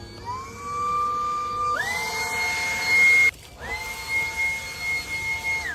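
Battery leaf blower running on its gentle setting, a steady whirring motor with a high tonal whine that shifts in pitch and cuts out briefly before resuming, close and moderately loud, no talking.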